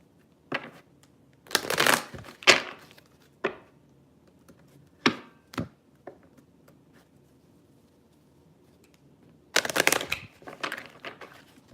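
Wisdom healing oracle cards are shuffled in several bursts of riffling, close and crisp, with short bursts near the start and middle, a quiet gap, then a longer flurry toward the end.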